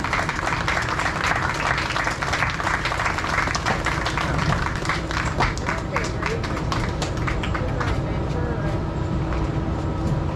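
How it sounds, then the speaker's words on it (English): An audience applauds a family joining the stage at the Santa Lucia opening, continuous clapping from a crowd over a heavy low rumble and background noise, with voices mixed in. "If you guys want to give them a round of applause"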